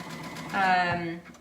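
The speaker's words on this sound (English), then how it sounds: "I think just gonna use my sewing machine here. I'm putting it on a zigzag." A home sewing machine set to a zigzag stitch runs in a short burst of under a second, a steady mechanical whir rising over a quiet room, with a voice speaking nearby.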